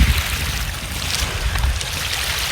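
Sea water washing at the shore by a fishing area: a steady, loud rushing wash with low rumble that fills the whole moment, with no talk over it.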